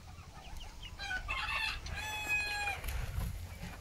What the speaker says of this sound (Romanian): Asta e o găină bătrână.